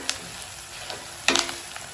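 Vegetables sauté in a pan for meatball pasta, a soft continuous sizzle with a few sharper crackles and a brief stir burst near the middle, quiet and close with no talking.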